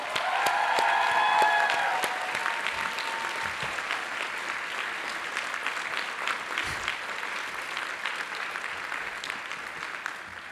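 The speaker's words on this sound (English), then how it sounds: "let's give them a big round of applause." A large audience at the 2018 Columbia College Class Day applauds, strongest at the opening with a few cheers, then settling into sustained, gradually thinning clapping across the whole stretch.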